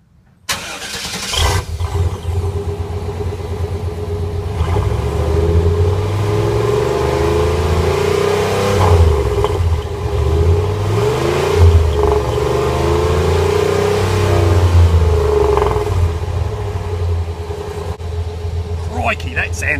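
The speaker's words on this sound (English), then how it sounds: "Viola, that is a turbo exhaust whistle" A car engine fitted with a turbo exhaust whistle revs loudly and continuously, its whistling tone rising and falling over a steady mid-range engine drone, with a voice talking over it.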